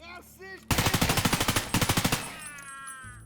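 Rapid automatic gunfire in a video game during a benchmark run, two loud bursts of evenly spaced shots, the second shorter, fading into quieter game ambience.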